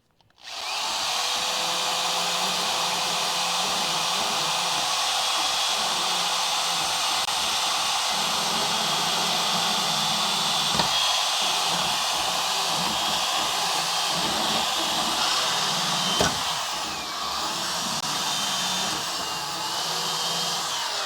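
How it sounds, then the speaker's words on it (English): A rotary tool fitted with a tungsten carbide burr grinds metal on a Crew Cab Charger under restoration, giving a loud, steady high-pitched whine that runs nearly unbroken for about twenty seconds with slight shifts in pitch as the burr bites. "this tungsten carbide burr is excellent. I love this damn thing. Makes it so easy."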